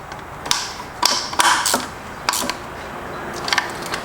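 A ratchet tightening a part on a Johnson 25hp outboard motor, giving several short bursts of close clicking pawl sounds spaced irregularly over a few seconds, with no talk.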